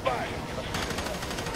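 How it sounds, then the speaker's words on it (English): Enemy gunfire aimed at the player in the first-person shooter F.3.A.R.: a quick burst of rapid shots rattles across a short stretch, mixed with other game noise. "I'm getting shot at"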